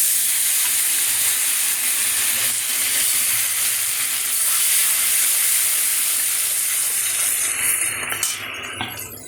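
Ginger paste sizzles and hisses steadily in hot oil with turmeric while dal is prepared, loud and continuous, tapering slightly near the end.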